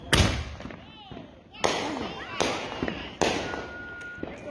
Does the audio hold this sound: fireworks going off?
yes